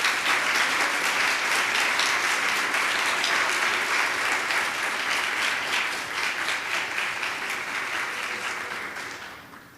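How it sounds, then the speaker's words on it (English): Another round of audience applause at a Latino community recognition event in Columbus, dense and sustained clapping throughout, tapering off in the final seconds. "And if we could just give them another round of applause."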